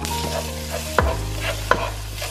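Minced garlic and ginger frying in a pan for mapo tofu, a close, steady sizzle with a couple of sharp utensil stirs against the pan.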